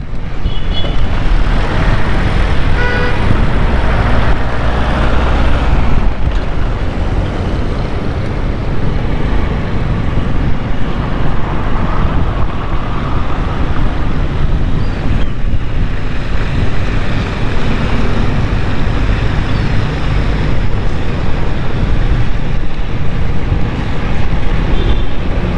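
A motorcycle ridden slowly over a broken, muddy road after winter rain, with a steady rumbling engine and heavy wind and road noise filling the whole stretch without pause.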